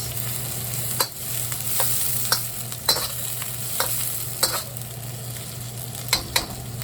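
Onions fry in a hot wok for a shrimp fried cauliflower dish, giving a steady sizzle with a low hum underneath and several sharp clinks of a stirring utensil against the pan.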